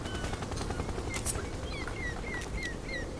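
Rapid M4 rifle fire in the online shooter Zula rattles in a steady burst over constant background noise, with a few sharp higher clicks and chirps layered on top and no talking.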